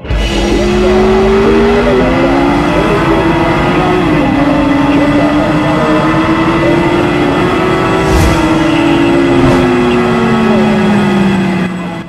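An Italika 150 scooter engine runs close by, a loud steady drone with wavering pitch as the throttle shifts slightly, with a couple of brief knocks partway through.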